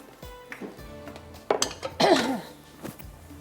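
A large mixing bowl is picked up and set down in a home kitchen while cooked food is moved into it to cool, giving a few close clinks and knocks with a louder clatter near the middle.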